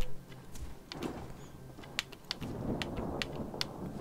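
Thunderstorm in a jump-and-run RPG video game: steady rain hiss with low rumbling thunder rolls and several sharp crackles, continuous and fairly close, with no talk over it.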